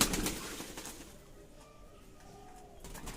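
Fancy pigeons coo softly in a backyard loft, with low, drawn-out calls under faint flapping and rustling at the start and end.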